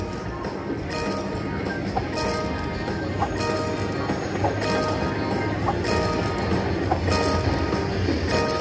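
Train sound effect from a slot machine bonus game, a continuous rolling rail rumble with bright chiming clinks recurring roughly every second, under a faint voice.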